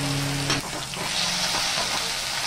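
Potatoes frying in a pan give a steady bright sizzle with a brief low hum at the start and a faint scrape, close and continuous.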